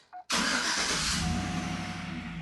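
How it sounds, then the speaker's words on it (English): A truck engine cranks and catches with a sudden loud roar, then settles into a steady, rumbling idle close by. "I'm going to turn the truck on."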